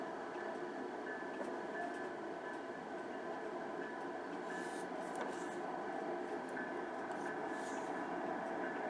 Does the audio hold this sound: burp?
no